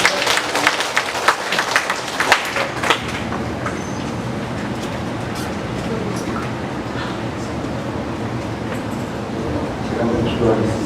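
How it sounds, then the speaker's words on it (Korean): A church congregation gives applause in praise of God during a worship service. The clapping is loud and crackling at first, then thins into a steady wash of crowd noise that continues to the end. "한번 하나님께 영광의 박수 한번 주세요"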